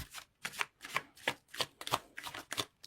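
Tarot cards being shuffled by hand in a series of eight crisp riffling bursts at a steady rhythm, close and fairly quiet, with no talking.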